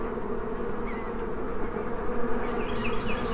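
Honeybees swarm around a new hive, a steady dense buzzing drone that fills the whole stretch, close and loud, with a few individual bees passing nearer.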